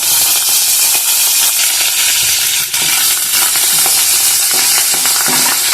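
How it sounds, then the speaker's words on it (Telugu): A tadka of asafoetida and curry leaves fries in a pan for a ridge gourd peel chutney, a loud, dense and continuous sizzle with stirring scrapes close up and no talking. "అలా ఫ్రై అవుతున్నాగానే కొంచెం ఇంగువ అయితే యాడ్ చేసుకోండి మీరు, అలాగే కొంచెం కరివేపాకు."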